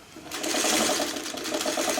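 A sewing machine stitches a seam on a quilt block, its rapid steady whirring running close and continuous for a couple of seconds.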